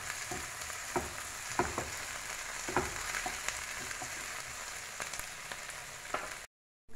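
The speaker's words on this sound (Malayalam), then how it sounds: "നന്നായിട്ട് നമുക്കൊന്ന് ഇളക്കി കൊടുക്കാം" Okra fries in a pan with a quiet, steady sizzle, broken by repeated soft scraping stir strokes from a spoon, then a brief cut to silence at the end.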